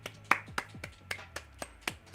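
Two people clap in a slow, irregular rhythm of about eight sharp, distinct claps, close and fairly quiet, with no one talking.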